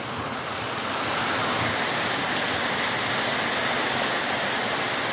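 Heavy rain pouring down in Limón, a constant broadband roar of falling water, even and unbroken for several seconds, no voices over it.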